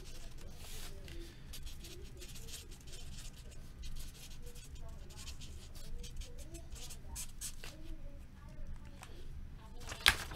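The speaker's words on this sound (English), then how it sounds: "Let me write this down really quick." A pen writing by hand on paper, soft scratchy strokes in quick irregular bursts close by at low level, with faint background noise and a sharp tap near the end.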